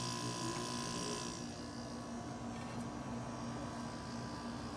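A central air conditioner with copper coils runs steadily, a continuous broadband whir of fan and compressor with a low hum, close and even throughout.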